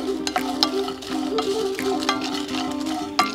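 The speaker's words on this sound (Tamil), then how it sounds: "இது கூட கொஞ்சம் பூண்டு, கொஞ்சம் வரமிளகா, கொஞ்சமாக புளி சேர்த்துக்கிறேன். இதை நல்லா நம்ம ட்ரை ரோஸ்ட் பண்ணிக்கலாம்." Garlic, dried red chillies and tamarind dry roasting in a pan for a curry leaf chutney, with steady scraping and stirring scratches over a low, even pan hiss. Close and moderately loud, with no talking.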